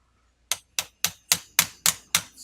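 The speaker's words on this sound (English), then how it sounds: "Take your brass hammer." A brass hammer taps a roll pin into the yoke of an ATSRS-1 rivet squeezer: seven sharp metallic knocks in a steady, evenly spaced rhythm, close and clear with short ringing decays and no talking.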